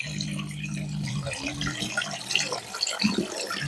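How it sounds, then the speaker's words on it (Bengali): Water pours from a pipe into a small village pond in a steady, splashing stream, close by, with a faint voice near the start. "ওই পাইপ দিয়ে পুরো ওখান থেকে এবার জলটা পড়ছে"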